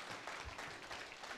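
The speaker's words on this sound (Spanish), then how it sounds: "Ese aplauso vamos a hacerlo otra vez, pero es para ustedes mismos" Faint, distant audience applause at an evening community meeting, a short patter of many hands clapping with a murmur of voices.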